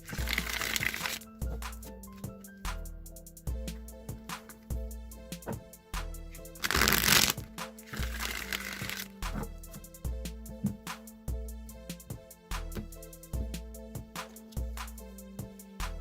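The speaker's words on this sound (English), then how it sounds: "I'm going to go ahead and shuffle the Rider-Waite deck" A Rider-Waite tarot deck is shuffled by hand, giving quiet, close, rhythmic riffles and crisp card snaps, repeated in steady bursts, with one brief louder rustle midway.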